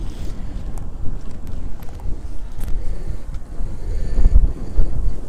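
A sailboat moving under sail in calm, light wind between Ireland's Eye and Lambay Island near Dublin, heard as steady rushing wind and low water noise buffeting the microphone, with no voices.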